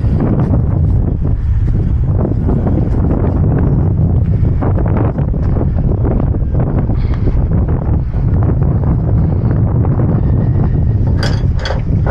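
Heavy wind buffets the microphone in a constant, loud low roar, with faint mechanical clicks and rattles underneath.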